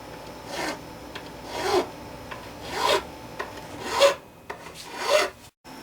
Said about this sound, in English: I've got a 3-corner file. I'm just going to kind of roll the edges here,